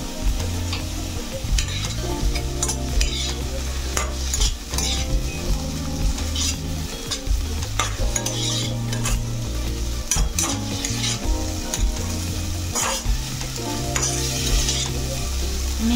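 Garlic and ginger paste sizzles in a pan with tomatoes for moong dal, close and continuous, while a spoon scrapes and clinks against the metal in a steady, irregular stirring rhythm.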